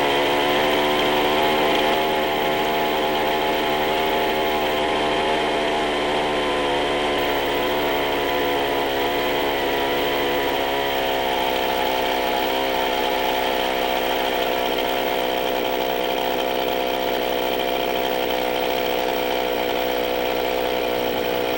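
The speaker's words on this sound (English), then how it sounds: "Back off T and readjust L until the saw idles well." A chainsaw runs steadily at a buzzing idle during carburetor adjustment, close and continuous for the whole stretch with only slight shifts in engine pitch.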